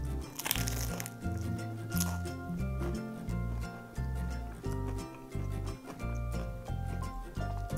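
Someone bites into and chews a fried homemade egg roll, producing repeated close crunches over background music.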